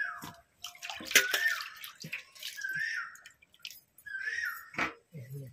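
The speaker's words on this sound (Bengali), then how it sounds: "এই থালাটা ধুয়ে নিই" A plate is washed under running water, with splashing and trickling bursts, the clatter of the dish, and gurgling drips heard close by in a kitchen setting.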